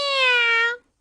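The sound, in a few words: cat meowing in Doraemon cartoon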